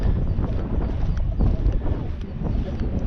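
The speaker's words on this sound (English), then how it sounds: "It's a bit windy today" Wind gusts across an open coastal spot above a quiet secluded beach bay near Durness, buffeting loudly and unevenly throughout with a low rumble.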